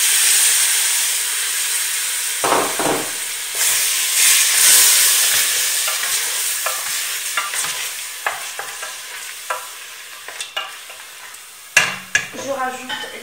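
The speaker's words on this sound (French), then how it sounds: "J'arrose avec de la tomate concassée dans son jus." Crushed tomatoes in their juice poured into a pan of browned meat for an eggplant tajine, raising a loud steady sizzle and hiss with scraping stirs and light clatter near the end.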